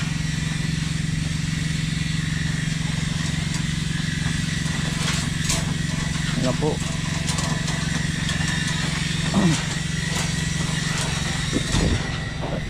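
Motorcycle engine running steadily nearby outdoors at a house where a post is being worked on, a constant low drone throughout with a brief spoken voice in the middle.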